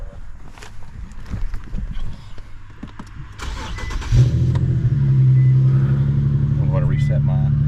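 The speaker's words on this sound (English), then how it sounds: "And then I'm going to start the car." An Infiniti Q car engine cranks and catches after background clatter and handling noise, then settles into a steady low idle rumble that continues to the end.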